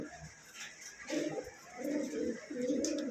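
A pair of pigeons at a Bangladeshi pigeon market coo in low, soft bursts, three rounded phrases in a row at close range, with background chatter faintly mixed underneath.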